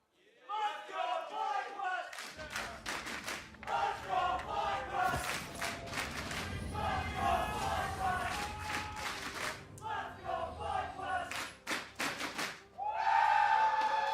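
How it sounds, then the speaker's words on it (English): An esports arena crowd of FlyQuest fans at an LCS match roars and cheers with thunder sticks, a loud, sustained wall of shouting and rhythmic clattering that surges and dips before swelling again near the end. "Everybody's cheering for their squad to be able to bring home the W on this one."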